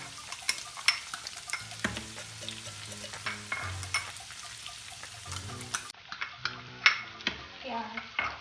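Capsicum and other vegetables for a chicken sandwich sizzle in a pan, with frequent sharp clicks and scrapes of a spatula stirring against the pan. A voice speaks intermittently underneath.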